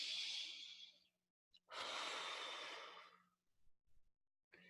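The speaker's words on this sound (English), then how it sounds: "breathe in, and then let it out your mouth" A deep belly breath drawn in, then a long exhale pushed out through the mouth, close and fairly loud against quiet, with soft breathy traces after.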